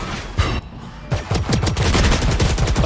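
Rapid gunfire from the video game Valorant, loud and close, with a few separate shots followed by a dense, continuous burst of automatic fire.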